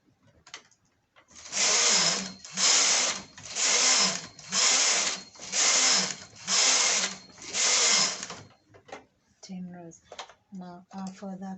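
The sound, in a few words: knitting machine knitting rows of a skirt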